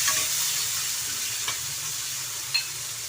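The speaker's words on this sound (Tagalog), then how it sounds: "So ginasta na natin yung bawang, sibuyas, saka yung miso" Garlic, onion and miso sauté in a pan, giving a steady, soft broadband sizzle throughout with a couple of faint stirring clicks, no voices.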